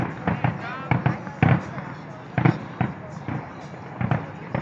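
Fireworks burst in rapid strings of small explosions, a run of sharp pops and crackles at an outdoor show at housing projects, with a person talking over the bangs.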